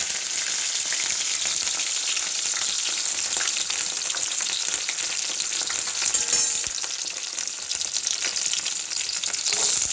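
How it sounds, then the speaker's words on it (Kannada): Loud, dense sizzling as seasoning fries in hot oil until golden for an amaranth-leaf stir-fry, with a sharper crackling burst around the sixth second as curry leaves hit the pan, no talk. "ಅದಕ್ಕೋಸ್ಕರ ನಾನಿಲ್ಲಿ ಸ್ವಲ್ಪ ಗೋಲ್ಡನ್ ಕಲರ್ ಆಗೋವರೆಗೂ ಫ್ರೈ ಮಾಡಿಕೊಂಡು ನಂತರ ಕರಿಬೇವಿನ ಸೊಪ್ಪನ್ನು ಹಾಕ್ತಾಯಿದ್ದೀನಿ"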